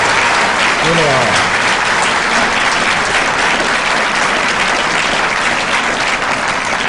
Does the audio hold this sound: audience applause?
yes